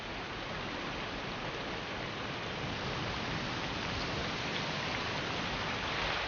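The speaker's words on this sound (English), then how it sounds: "this storm is only the first of a whole string of others, rolling over the Hebrides" Steady heavy rain from a storm over the Hebrides, a dense, unbroken broadband wash that stays even and continuous throughout with no voices.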